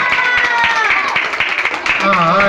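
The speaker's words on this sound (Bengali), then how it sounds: "দ্বিতীয় হয়েছে অনির্বাণ দাস সূর্য, হাততালি।" An audience claps at a school prize-giving ceremony for a handwriting competition, quick scattered handclaps running under a voice speaking and singing over a loudspeaker.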